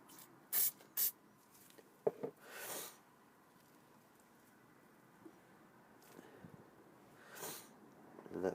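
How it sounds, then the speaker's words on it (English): Two short, sharp hisses of a super glue activator aerosol spray, then a longer burst, with small clicks and handling noises around them. "and then hit it with the reactor spray"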